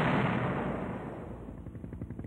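Conventional artillery fire, a loud booming blast that opens the clip and rolls into a long decaying rumble, with faint rapid crackling reports behind it.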